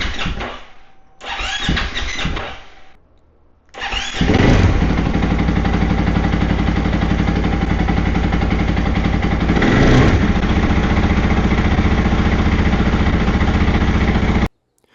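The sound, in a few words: motorcycle engine starting and idling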